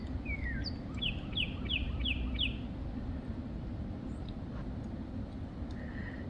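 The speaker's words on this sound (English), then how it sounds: "I don't know if you can hear this bird, but it's pretty." A bird sings outdoors on a farm during a hike, a quick series of five or six bright repeated chirps after a short opening call, fairly faint over a steady background hiss.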